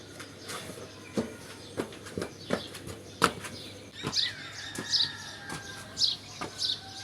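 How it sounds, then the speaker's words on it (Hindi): Birds chirp outdoors at about 5 a.m., with a few bright calls recurring over roughly a second, mixed with close footsteps or rustling thuds. "परिंदों की खूबसूरत आवाज़ों से आप अंदाज़ा लगा सकते हैं कि सुबह का जो माहौल होता है वो कितना प्यारा होता है।"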